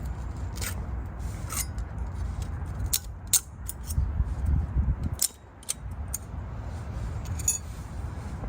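A flathead screwdriver prying metal hardware clips off the front brake pads of a Honda Pilot: scattered sharp metallic clicks and snaps over a low, continuous scraping and rubbing, close by.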